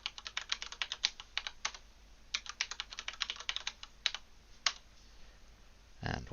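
Computer keyboard typing in quick irregular bursts of crisp clicks with short pauses, close and fairly quiet, ending in a brief rustle, with no talking.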